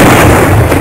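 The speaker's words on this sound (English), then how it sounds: "Firing main cannon." A tank's main cannon fires in the Halo game, a single loud, close, booming blast that fills the short moment with no talk over it.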